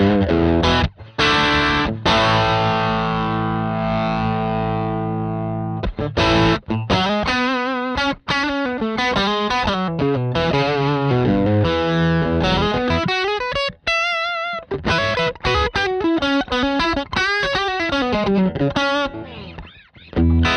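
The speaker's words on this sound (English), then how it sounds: "the last one is the Big Rig Overdrive. So this is a little bit more of a girthy sort of lead line pedal" Overdriven electric guitar lead played through a Big Rig Overdrive pedal in an Archetype Cory Wong amp plugin, a thick, girthy distorted tone with sustained notes, bends and quick melodic runs, loud and continuous with no talk.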